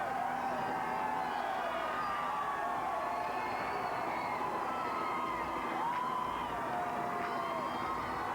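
A large crowd cheering at the Tennessee Titans 2000 homecoming parade in Music City, a steady roar of voices and shouts with siren-like wails drifting through.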